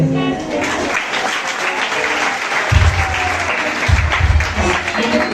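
Church congregation applauding during a youth presentation at a Reformed Christian church, a steady wash of many hands clapping throughout, swelling slightly toward the end with low thumps from nearby claps.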